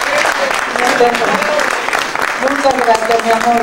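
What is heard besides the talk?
audience applause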